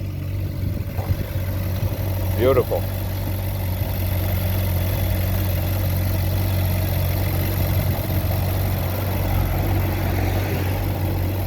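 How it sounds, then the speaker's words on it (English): Ferrari 458 Italia engine running steadily at a fast idle, a constant low droning hum with slight rises in revs, fairly close; a single brief spoken word occurs near the start. "But listen to this engine power."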